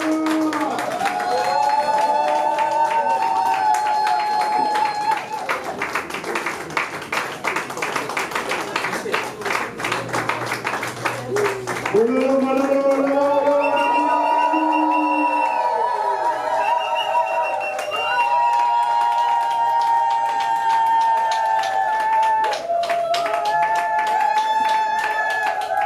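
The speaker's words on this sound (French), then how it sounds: "On se lève et on applaudit très fort avec une cri de joie" Guests at Francisca and Bertrand's wedding clap loudly and shout high, warbling cries of joy. Dense applause swells and fades around the sustained voices.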